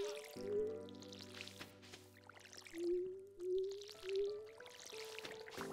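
Crops are watered in Stardew Valley, where a watering can's soft splashing pours and drips sound over calm farm background music with rising melodic tones, and no one speaks.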